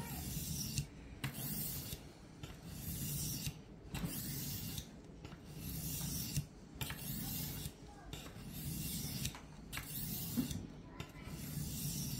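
A knife blade drawn repeatedly across a sharpening stone in long, even rasping strokes with brief pauses between passes, close and moderately quiet, with no one talking.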